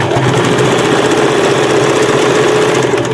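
A sewing machine runs continuously as it stitches a sofa cover through to the end, a loud, dense mechanical whirr with rapid needle chatter and no pauses.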